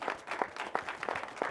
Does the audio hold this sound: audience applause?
yes